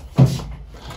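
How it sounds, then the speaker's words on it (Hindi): A house door opening after a lock is undone, one soft thud of the door moving close by, then low rustling as it settles; no speech. "अभी इधर दरवाजा खोलते हैं"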